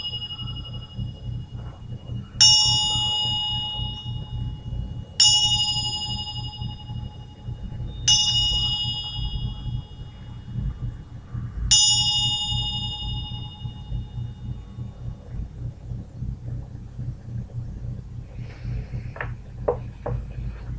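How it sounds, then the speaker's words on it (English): A gyro bell rings out four times, each clear metallic strike ringing bright and shimmering before slowly fading, spaced a few seconds apart over a low steady hum, followed by quieter faint taps near the end. "Bell sounds so nice."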